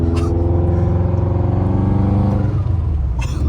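Subaru WRX turbo engine running as it warms up: a loud, close, steady rumble with a strong, even tone. It shifts slightly near the end, with no voices.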